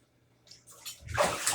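Water rushes loudly into a bath after a near-silent start, a swelling gush with a splashy hiss, close and alone.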